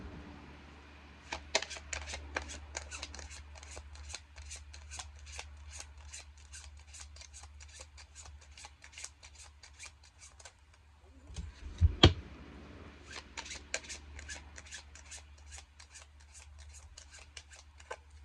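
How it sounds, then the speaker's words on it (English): Cards are shuffled repeatedly up close, rapid crisp riffling clicks in long runs, broken by a brief louder knock partway through. "This deck is a little loud. Okay, so y'all might hear me shuffle."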